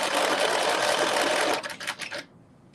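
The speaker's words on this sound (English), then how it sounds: "My sewing machine is talking to me like" A home sewing machine in need of cleaning runs loudly in a steady whirring burst, then slows into a few uneven stitches before stopping.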